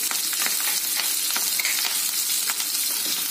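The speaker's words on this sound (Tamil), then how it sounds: "அப்புறமா பூண்டு எல்லாம் போட்டு நல்லா வதக்குங்க" Cumin, dried red chillies, ginger and garlic sautéing in hot oil in a pan, giving a dense, steady sizzle with occasional stirring scrapes, close and continuous.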